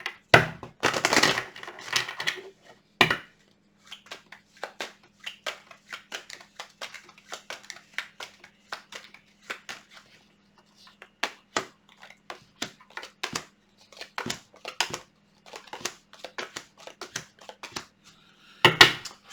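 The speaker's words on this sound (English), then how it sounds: "One more shuffle." Tarot cards shuffled by hand at close range, heard as irregular bursts of crisp flicks, riffles and soft slaps separated by short pauses, with no talking.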